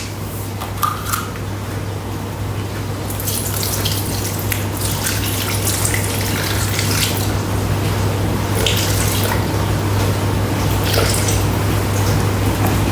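Milk poured into a Thermomix bowl, a steady close liquid stream splashing and trickling for several seconds over a constant low appliance hum, with no talking.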